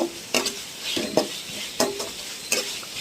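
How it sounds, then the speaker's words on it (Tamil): Ginger garlic paste sizzles in a pan while being sautéed for chicken liver gravy, with a spatula scraping and stirring in sharp strokes roughly every three-quarters of a second. "அந்த இஞ்சி பூண்டு பேஸ்ட் வந்து கொஞ்சம் நல்லா வதங்கணும்"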